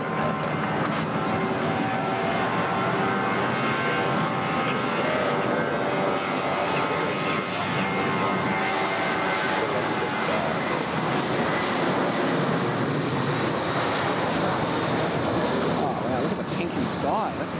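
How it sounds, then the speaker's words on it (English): A Jetstar Airbus A320 departs Gold Coast Airport bound for Wellington, its engines a steady, broad roar held at an even loudness throughout, with some talk over it. "It's the A320, Jetstar 167."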